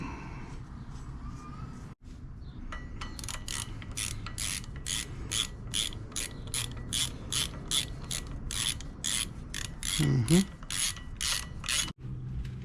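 Ratchet wrench tightening transmission bolts on a Mitsubishi 3000GT VR4, a long run of rapid, close clicking strokes in a steady rhythm, with a short voice heard midway.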